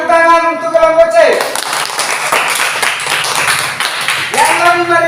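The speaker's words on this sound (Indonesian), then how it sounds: "Tepuk tangan untuk kelompok C." Classmates give group C a round of applause in a classroom, a dense few seconds of clapping between stretches of a teacher's voice.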